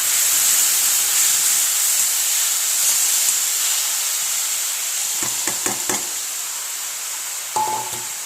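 A coconut and sugar mixture fries in a kadai with a loud, continuous steamy hiss, then several metallic scrapes and clanks of stirring near the end.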